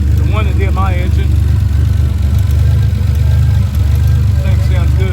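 A modified turbocharged V6 car engine belonging to a Buick Grand National owner idles steadily nearby at a car meet, with a loud, continuous low rumble while people talk over it.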